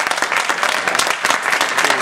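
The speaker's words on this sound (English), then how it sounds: "Let's give all the contestants a round of applause." An audience at a humorous speech contest gives the contestants a round of applause, loud, dense clapping close by that keeps up evenly for a couple of seconds.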